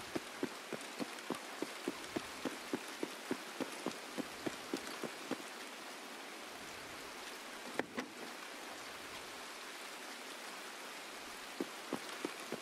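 Rain falling in the video game Escape From Tarkov, a steady soft patter with a run of sharp, regular drip or tap hits early on, then quieter spattering and a few more taps near the end.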